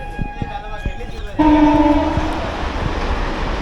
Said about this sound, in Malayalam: ഡബിൾ ഡെക്കർ എക്സ്പ്രസ് ആയിരുന്നു അത്